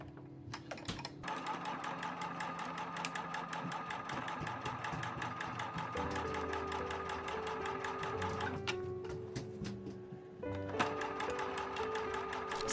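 A sewing machine stitches bias binding onto a ruffled tablecloth in fast, even mechanical bursts, pausing briefly and restarting, close and clear with no voices.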